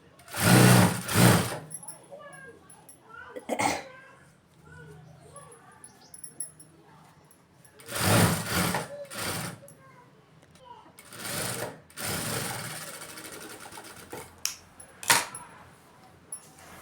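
A sewing machine stitches the lining of a silk blouse in short, loud whirring bursts separated by pauses, with someone talking quietly between runs of stitching.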